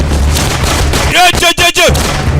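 Gunfire in an action film: a few sharp bursts of shots cut through a busy, loud mix, with shouting voices heard around them.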